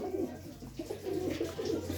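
Soft, low pigeon cooing repeats in short throaty phrases, fairly quiet against a calm background.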